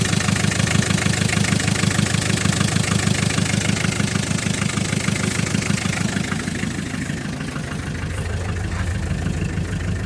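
Ch 4 8.5 diesel engine, nicknamed "Bronyovychok", idling smoothly and evenly once warmed up, a steady close rumble with a regular low pulsing throughout.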